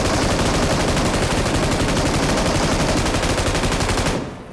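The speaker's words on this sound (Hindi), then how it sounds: "लेकिन यार गोली चलने की आवाज़ आने लगी थी" Rapid automatic gunfire in a battle royale shooter game set at a military base, a dense, loud burst of evenly spaced shots lasting about four seconds before cutting off abruptly.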